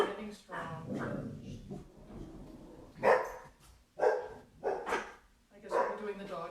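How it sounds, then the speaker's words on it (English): Hounds bark and bay outdoors on a morning, a series of loud, irregular barks and howl-like calls in bursts, with speech mixed in among them. "Joining some hounds. They're doing their Monday morning song."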